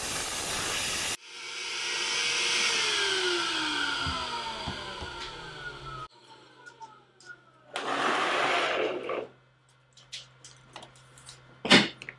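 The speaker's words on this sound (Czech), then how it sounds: "slyšeli jste, že vysavač už nemohl a samozřejmě ta hubice už nic nenasávala" A Bosch GAS 18V-10L cordless vacuum cleaner hisses steadily as it sucks up wood shavings and sanding dust, then strains and cuts out, followed by shorter bursts of suction and clattering debris nearby.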